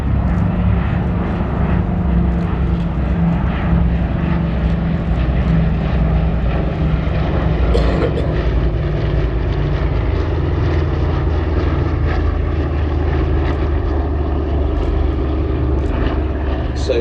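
The vintage B-17 bomber Sally B, four piston engines and propellers, drones loud and steady through a flying display at an airshow, a continuous throbbing roar that swells slightly midway, with faint talk beneath.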